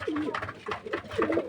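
Pigeons in a loft coo close by in a quick, soft burst of throaty, rolling calls, a few overlapping coos within a second and a half.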